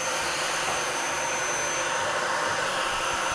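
Dyson vacuum cleaner with a brush bar that won't spin, running continuously with strong suction as a loud, steady broadband roar and whine, close up, with no talking.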